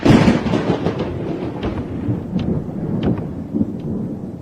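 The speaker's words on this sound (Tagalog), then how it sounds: "Hindi pa ako natatapos sa pagsasalita nang biglang kumulog." A sudden thunder clap from a storm behind a mountain at night, a loud rumbling burst at the start that rolls on and slowly fades, alone without voices.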